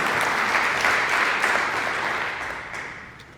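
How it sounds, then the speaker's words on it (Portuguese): Congregation applauding Jesus during a church service, a dense sustained wash of clapping that holds strong and then gradually fades toward the end. "Você pode dar uma linda salva de palmas a Jesus"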